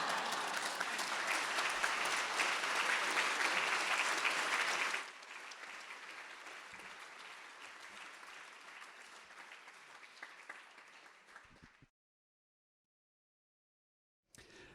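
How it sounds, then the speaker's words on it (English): An audience at a dedication dinner applauds steadily for about five seconds, then the clapping thins and fades until silence, with a faint noise returning at the end. "Let's give Jane another round of applause."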